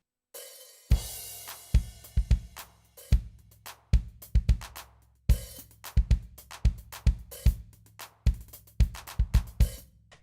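A steady drum groove on an electronic drum pad, sharp, evenly hit strikes with a punchy low thump, repeating in a tight rhythm, close and fairly loud with no voices.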